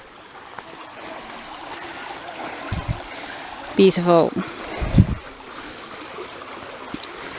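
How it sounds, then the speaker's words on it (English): A small outdoor stream trickles and gurgles steadily in the background throughout, while a person briefly speaks a single word midway. "And here we have some more water."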